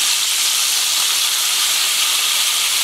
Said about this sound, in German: Nach ungefähr 3 Minuten kommt der Saft einer halben Zitrone in die Pfanne. Das wird dann aufschäumen